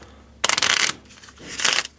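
Yu-Gi-Oh trading cards are riffle-shuffled in two quick bursts of crisp, papery fluttering, close and fairly loud, separated by a short pause.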